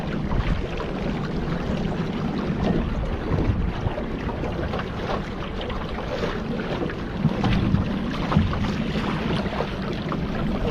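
A boat ride on the water at Hoover Dam brings a steady rumbling engine drone mixed with rushing wind buffeting the microphone and splashing water, loud and continuous.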